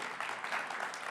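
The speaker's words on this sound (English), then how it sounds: "Can we give College Shop one more round of applause?" An audience applauds the College Shop at the Reusies 2024 awards, a steady, dense wash of clapping heard at a moderate distance with no voices over it.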